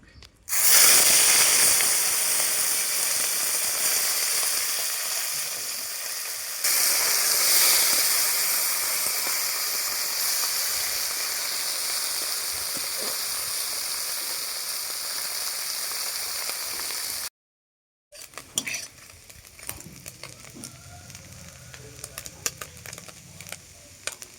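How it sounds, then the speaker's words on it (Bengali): Loud sizzling of small fish frying in hot oil, a steady bright hiss that flares up once, then cuts off to quieter kitchen clatter. "চুনো মাছগুলো আমি ভেজে নেবো।"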